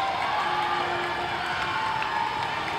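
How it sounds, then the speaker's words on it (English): Emotional crowd cheering fills a volleyball gym at a high-school match between Edwardsburg and Vicksburg, a steady, dense roar of voices with shouts and whoops, loud and sustained throughout. "Very emotional crowd here"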